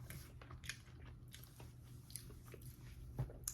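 Cheetos snack puffs are bitten and chewed close to the mic, with sharp crunchy bites followed by soft, repeated munching and crackles, quiet and without talk.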